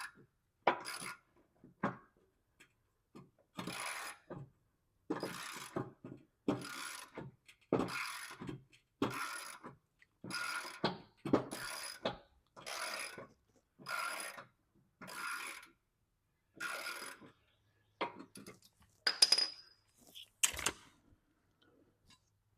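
A hand ratchet tightens the spindle bolts on a Cub Cadet Ultima ZT1 54-inch zero-turn mower. It gives repeated short bursts of close, sharp clicking, with even pauses between them. A quiet high click sounds near the end.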